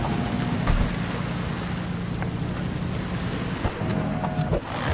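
Steady rain in the video game Cyberpunk 2077 Phantom Liberty, a dense hiss of drops on surfaces with a low rumbling bed beneath, constant throughout with a few brief knocks and tones, no voices.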